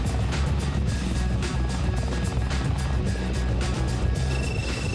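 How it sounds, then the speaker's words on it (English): A CH-46 Sea Knight twin-rotor Marine assault helicopter drones loudly and steadily with a deep rotor throb, a continuous close engine roar with no talk. "The CH-46 Sea Knight has long served as the backbone of Marine heliborne assault."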